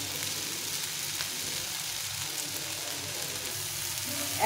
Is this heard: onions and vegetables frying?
yes